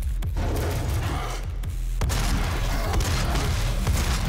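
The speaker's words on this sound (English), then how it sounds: "The shotgun's a little slow." Shotgun blasts in Doom among heavy game combat, loud booming shots cutting through a dense, constant roar of explosions and gunfire with no talking.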